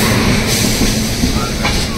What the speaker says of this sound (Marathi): मालगाडी आहे.